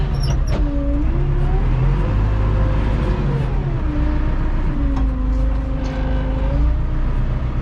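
Farm tractor with a manure spreader driving slowly across a field, a loud, close engine drone with rising and falling pitch as it works, steady throughout without speech.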